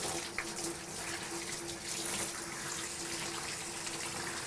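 Water runs steadily at low volume while a special-needs dog is bathed on a grooming table, a continuous soft hiss and splash with no speech.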